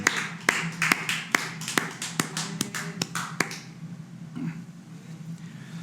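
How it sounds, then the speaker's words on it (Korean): Church congregation applauding during a Sunday worship service, a burst of hand claps with sharp, distinct slaps at first that thin out and fade into quieter room tone toward the end. "우리 주님께 영광의 박수 함께 올려드리시겠습니다"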